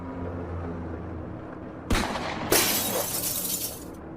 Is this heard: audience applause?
no